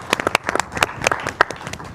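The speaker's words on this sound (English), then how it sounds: "another round of applause for the great Alice Lovelace" A small theater audience claps for Alice Lovelace, producing scattered individual hand claps, sharp and close, in an uneven rhythm rather than a dense roar.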